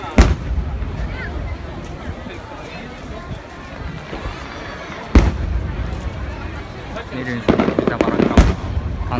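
Fireworks burst at a summer festival, sending several loud booming cracks across the sky, with bigger blasts near the middle and a quick cluster toward the end, over a bustling crowd murmur and nearby chatter.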